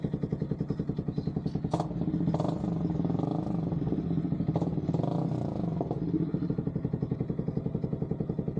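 Yamaha XSR 155 motorcycle, a 2024 bike fitted with a new aftermarket muffler, idling and revving with a deep, bassy exhaust note. The engine pulses steadily throughout, with several short throttle blips rising above the loud, close rumble.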